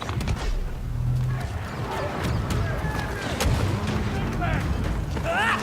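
Artillery and gunfire in the Star Wars Battlefront video game, a run of booming blasts and sharp shots layered over dense battle noise, with someone talking over the action.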